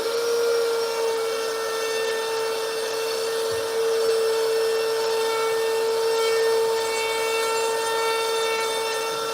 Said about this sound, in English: I'll just reset my router at about 1/4 of an inch, something like that, and I'll take another line around it.